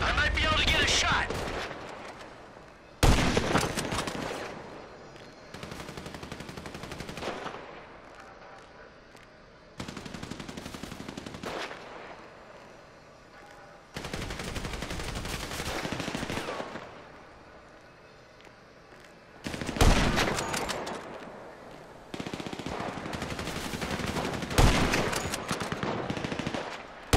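Bursts of automatic gunfire and sharp sniper shots in GTA 5 during a rescue of Lamar, loud volleys coming in repeated waves with short pauses between them, with voices shouting between the bursts.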